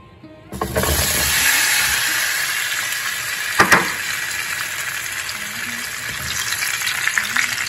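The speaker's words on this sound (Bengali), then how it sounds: "এখন আমি ওই পনিরগুলো সামান্য একটু লাইট করে ভাজব।" Paneer cubes lightly frying in canola oil make a steady, close sizzle throughout, with a sharp crackling burst midway and occasional faint stirring clinks.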